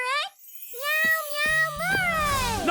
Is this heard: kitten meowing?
yes